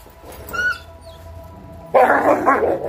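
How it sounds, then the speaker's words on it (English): A pack of dogs feeding on a deer carcass: a short whimpering yip, then a sudden loud burst of close growling and snarling barks that fills the final second, with no voices. "What may look violent and mean is just dogs communicating."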